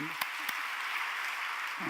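Congregation at a Korean Sunday church service clapping, a fairly soft, even patter of applause with a couple of sharper claps near the start and a voice coming in at the end.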